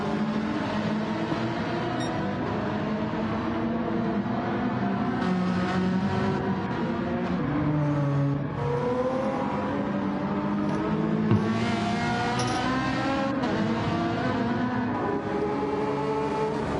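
Race cars in Gran Turismo 7 lapping the Circuit de Barcelona-Catalunya, engines droning and whining steadily with shifting pitch as several cars run close together, loud and continuous without pause.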